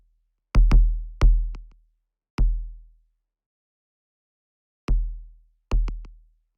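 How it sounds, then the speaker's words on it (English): Deep kick drum hits from a modular synth play in an uneven pattern, each a short punchy thump with a booming low decay, separated by silence. The kick sounds slightly shaky and unstable. "if I play kick, it sounds like this"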